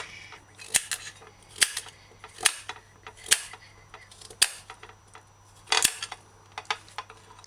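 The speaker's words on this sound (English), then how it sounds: "Use a knife and cut little strips, or cut big enough strips, I call them. Turn it and then cut cubes." A knife chops through firm pumpkin into cubes on a board: about six sharp, dry knocks at uneven intervals, close and fairly crisp over a quiet background.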